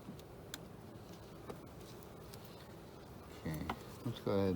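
Faint, steady buzzing of bees around three Apimaye beehives during a hive inspection, a low insect drone throughout with a few soft clicks and a brief burst of handling noise near the end.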